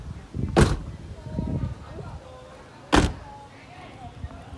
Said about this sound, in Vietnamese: Cửa đóng rất là chắc luôn